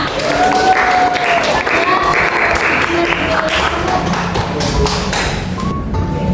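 A class of students gives a sustained round of applause in a classroom, with dense, steady clapping throughout and faint voices and tones mixed in.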